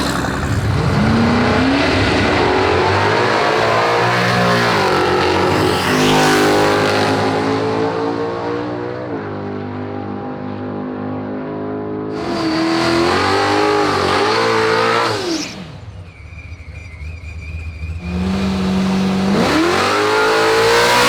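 Fast street cars on a drag strip at a street car racing event, loud engines revving hard and roaring through long accelerating runs, with one car surging up through its gears and boost noise close by.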